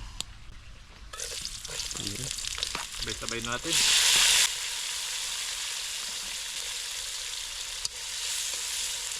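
Steady sizzling of food frying in hot oil fills the scene, with people talking briefly at the start and a burst of louder hiss.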